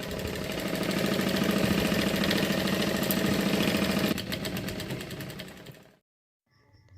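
A sewing machine stitches a quilt made from old discarded cloth, running steadily with a fast, even whirring chatter for several seconds before slowing and stopping, then a brief quiet rattle.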